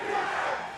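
An esports arena crowd roars during a Valorant match at VCT Masters Madrid 2024, a dense, sustained wash of cheering voices filling the space for just under a second with no individual words standing out.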